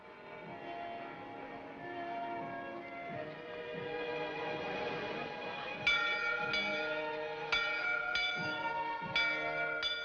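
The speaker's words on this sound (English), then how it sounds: "Bell. I always liked bells." Several bells ring out in a steady, repeated pealing with bright, sustained tones that build and overlap, struck again and again and heard clearly without talk.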